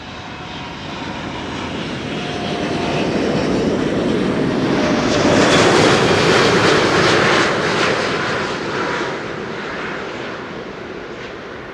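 An Emirates Airbus A380 landing at Amsterdam Schiphol, a loud roar swelling to a peak midway as engine thrust reversers engage, then slowly easing off, with no voices.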